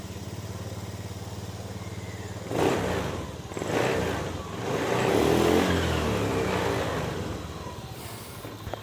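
A motorcycle being test-run after fixing a faulty CKP sensor and a sputtering fault idles steadily up close, then revs up in several surges, rising and falling before settling back, with no talk over it.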